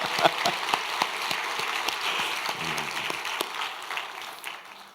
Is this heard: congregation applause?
yes